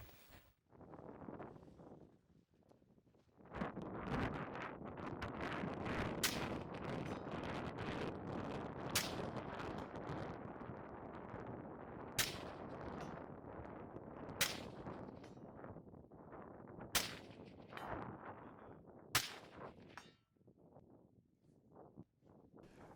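Rifle shots from a rifle fitted with a HYPR-7 scope firing 55 grain FMJ ammunition at 100 and 200 yard targets outdoors: several sharp, loud cracks spaced a few seconds apart over a sustained windy, rumbling background.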